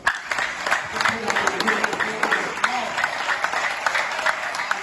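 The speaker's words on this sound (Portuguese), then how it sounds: "Você pode aplaudir ao Senhor?" A church congregation applauds at the close of a worship service, a steady wash of mixed clapping carrying on for the whole stretch, with voices murmuring and calling out underneath.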